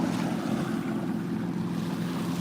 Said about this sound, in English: the lapping waves